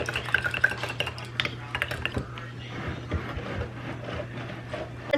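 Homemade mayonnaise being mixed in a container, busy clicking and scraping strokes at first that thin out into a quieter, softer stirring.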